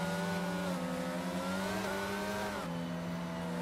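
A steady, smooth engine hum from the safety car cruising along in the F1 22 video game, faint and even, with a brief dip in pitch near the end.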